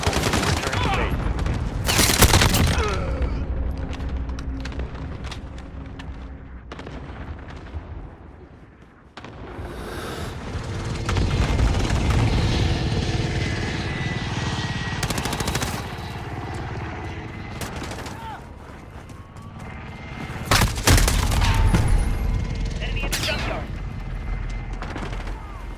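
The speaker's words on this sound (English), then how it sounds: "Allied cluster strike inbound." Video game battle noise after an allied cluster strike: loud, dense bursts of explosions and rattling gunfire fill the whole span, with heavier blasts near the start, middle and end, and game radio voices speaking under the din.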